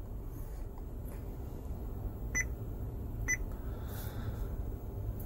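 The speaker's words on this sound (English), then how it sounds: "If you don't like that key beep" A few short electronic key beeps from an Android double-DIN car head unit in a Jeep Wrangler sound at intervals against a steady low background hum, quiet and close by.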